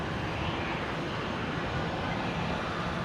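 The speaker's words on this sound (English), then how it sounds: "there is another Embraer coming in here on 19 rights" An Embraer jet airliner arriving at Brisbane International Airport, Australia, gives a steady broadband engine roar that fills the whole moment evenly at moderate distance, with no voices.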